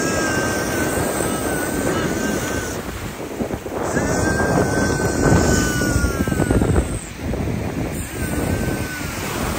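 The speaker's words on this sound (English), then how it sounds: "I'm gonna get the drone up now and show you some of the footage from around this beach." A camera drone lifts off and flies over a Western Australian beach, its steady rotor whine sitting on top of continuous loud surf and wind buffeting the microphone throughout.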